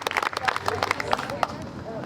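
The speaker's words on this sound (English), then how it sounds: "Let's give them a round of applause." Crowd applause at an outdoor protest in a memorial park, a short burst of scattered clapping and cheering from a small gathering, loud and close, then fading quickly.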